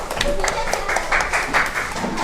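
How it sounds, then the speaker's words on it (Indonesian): Fifth-grade pupils in a classroom give a short round of applause, quick scattered claps going on for a couple of seconds over the teacher's voice. "Oke, tepuk tangan, silakan duduk kembali."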